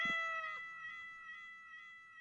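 A synthetic cat from a Cat GPT app gives one clear meow at the start, then a long, faint tonal tail that fades out quietly.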